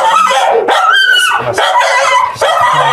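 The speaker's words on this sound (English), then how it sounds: "Just that little dog quits freaking out." A small dog barking frantically in a home, rapid repeated loud yapping barks with whiny tones, close and continuous across several seconds.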